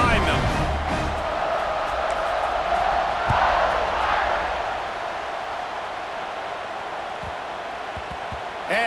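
A football stadium crowd at a Notre Dame versus Penn State game roars and cheers steadily at kickoff, with a commentator's voice talking over the sustained noise.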